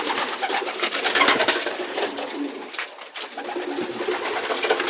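Pigeons cooing steadily in an open loft, several birds calling close by with soft overlapping coos and fluttering over a busy background.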